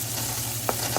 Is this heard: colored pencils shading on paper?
no